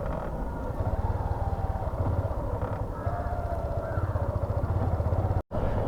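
A motorcycle with a weak battery, bump-started by rolling it downhill in second gear, runs with a loud, steady, close throbbing engine beat that continues almost without a break.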